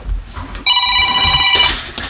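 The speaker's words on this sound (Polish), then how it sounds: "Telefon." A telephone rings loudly and close by with a sustained electronic burst of bright tones, set against some background noise and no talking.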